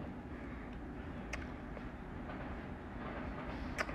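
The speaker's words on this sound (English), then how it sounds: "You can hear the train in the background." A train rumbles past in the background, a low continuous roar with faint clanks and rattles, steady and somewhat distant throughout.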